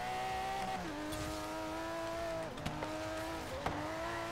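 Mercedes CLK GTR race car in Forza Horizon 3 roaring at high revs, with the engine pitch climbing and dropping through gear shifts, plus brief tire squeals and bumps, loud and alone.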